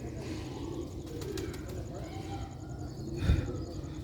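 Ali wala pigeons coo softly and continuously at close range among other bird calls, with a brief louder thump near the end.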